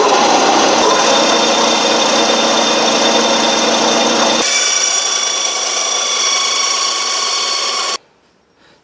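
A bandsaw cuts the eye of a wooden axe handle with a loud, steady whining roar whose pitch shifts partway through, then stops abruptly, leaving near silence.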